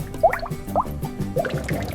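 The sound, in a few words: Jack Daniel's whiskey dripping through maple charcoal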